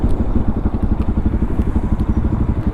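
A motorcycle engine idles close by with a steady low chugging rumble and some light clatter as the bike is parked, loud and continuous.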